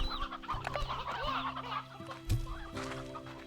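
Roosters in the game Slime Rancher 2 cluck in short repeated bursts close by, overlapping calls over a soft steady musical drone.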